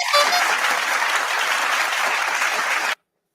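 A live stream's applause sound effect plays as a dense, steady burst of clapping and crowd cheering at full loudness for about three seconds, then cuts off abruptly into silence.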